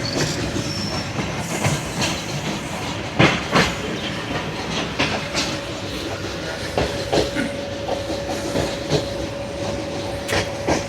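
The Zakariya Express passenger train running on rails during a hot-weather journey, with a steady rumble, repeated clickety-clack wheel beats and a thin sustained squeal heard from inside the carriage.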